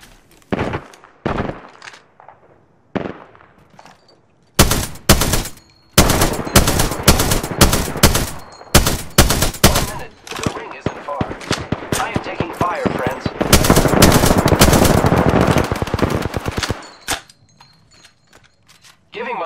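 Gunfire in the Apex Legends video game crackles in rapid automatic bursts and single sharp shots, loud and close, with a long sustained volley in the middle and short gaps between.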